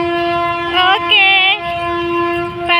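An approaching train sounds a loud, sustained horn with short rising blasts over a low rumble, close and prominent, with no speech.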